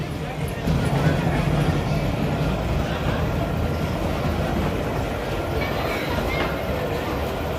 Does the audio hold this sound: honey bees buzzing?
no